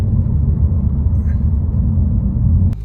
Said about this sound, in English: We're going to be taking off from 0 and just going very short. So we're gunning it up quick.